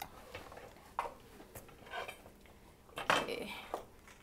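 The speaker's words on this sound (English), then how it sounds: "Let me chop my garlic." A kitchen knife chopping garlic on a board as stir-fried green beans are prepared, heard as faint, irregular tapping knocks with a scrape of metal.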